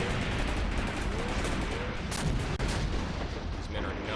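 Artillery and gunfire boom and crackle without letup in a WWII tank battle in Graviteam Tactics: Mius-Front, with dense, loud shots and blasts overlapping and one sharper report standing out, faint talk barely present underneath.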